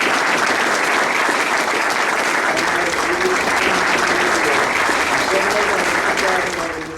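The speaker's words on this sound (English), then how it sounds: "he was greeted by the sound of applause" Sustained applause from a crowd at a Coast Guard training center, a dense, continuous clapping that stays steady throughout and fades slightly at the end.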